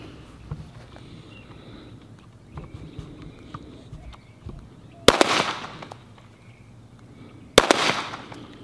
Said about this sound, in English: I accidentally shot a couple extra rounds over there, so we finished off with 2 here at 25.